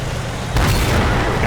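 A tank cannon fires in a tank battle video game, a single loud, close boom followed by a heavy low rumble that lingers to the end.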